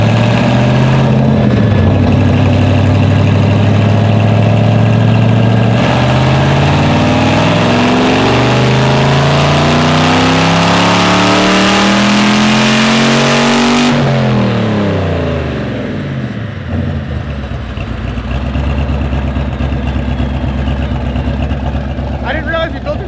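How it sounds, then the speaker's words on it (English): Turbocharged truck engine revving on a dyno, loud and close, its pitch rising steadily through a long pull before cutting off abruptly and settling into a lower, rough idle. "It sounds like it makes zero boost and it's a tractor the entire time."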